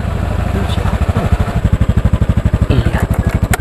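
A motorcycle pulls up outside a house, its engine chugging in a steady, close, throbbing rhythm that grows more distinct toward the end, with a low background murmur underneath.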